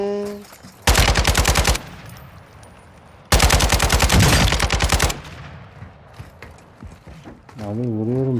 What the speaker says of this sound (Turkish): Abi vuruyorum zaten adamları.